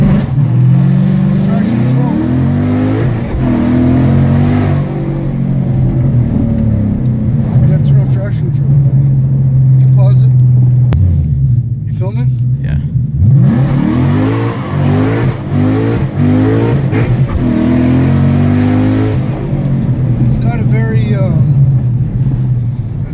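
Inside an S197 Ford Mustang with a 5.0 Coyote V8, intake, headers and exhaust, tuned to a 7,000 RPM redline, the engine roars loudly, climbing and dropping in pitch as it pulls through several gears, with people talking over it.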